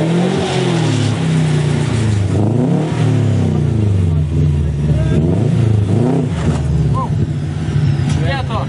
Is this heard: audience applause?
no